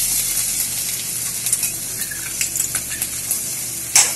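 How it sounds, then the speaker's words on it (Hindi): Garlic sizzling steadily in hot oil in a kadai, a continuous close frying hiss with a few faint clinks of stirring, no voices. "अब हम उसमें सबसे पहले लहसुन डालेंगे"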